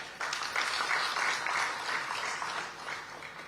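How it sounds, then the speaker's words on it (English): A conference audience at a water and environmental week event in Uganda gives a steady round of applause welcoming a bank executive director as a panelist, the dense clapping starting abruptly and holding at a moderate level throughout. "Let us welcome, with a round of applause, Ms. Kate Kiza, Executive Director, DFCU Bank."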